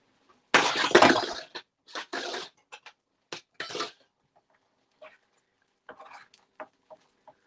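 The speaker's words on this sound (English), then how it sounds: "Stir my beans." Beans stirred in a pan while making an English breakfast: a loud scraping burst, then a string of shorter clinks and scrapes spaced irregularly, fading to sparse faint taps.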